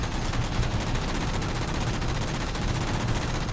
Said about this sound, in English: I just fired my rockets and knocked him out of the sky with rockets